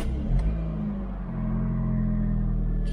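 A car bought at a British car auction is started in a yard: a brief cranking catch, then the engine settles into a steady, loud, low idle rumble close by.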